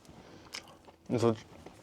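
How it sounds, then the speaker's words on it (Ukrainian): Someone chews a vegetarian space food ration, with a short burst of crunchy biting up close. Faint speech can be heard elsewhere. "Незважаючи, вибачайте, що я жую."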